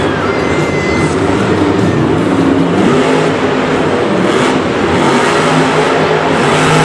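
Monster truck engine roaring and revving continuously while spinning donuts in a Monster Jam arena show in Singapore, loud and close with a thick, steady drone and faint crowd noise.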